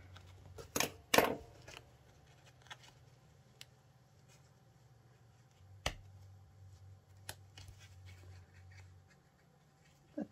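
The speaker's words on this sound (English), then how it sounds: "I'm going to use a smaller pair of scissors." Small scissors cutting a Christmas journal cover, heard as a few sharp, close snips near the start and a couple of isolated clicks later, over a faint low hum with quiet gaps between.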